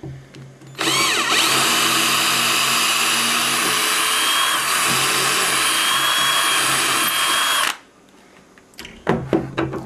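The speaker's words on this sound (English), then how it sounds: "We've got a 3mm drill bit, and we need to drill the top out." A power drill whines steadily for several seconds as a 3mm bit bores into a wooden bed post, then stops abruptly, followed by a few light knocks.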